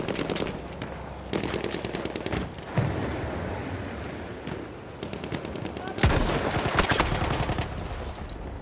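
Enemy machine gun fire in the video game Battlefield 1, on the Giant's Shadow map. Sustained rapid bursts rattle over several seconds with short breaks and a sharp louder burst near the end, set against a dense battlefield din.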